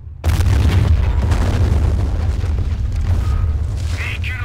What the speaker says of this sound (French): c'est un bruit de l'artillerie, et j'aime pas ce bruit.